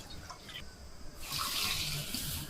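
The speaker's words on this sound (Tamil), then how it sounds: "அதே கப்பில் நான் 2 கப் அளவுக்கு நம்ம தண்ணி சேர்க்க போகிறோம்" Water gushes in a steady hissing pour, starting partway through and continuing at a moderate level after a few faint knocks.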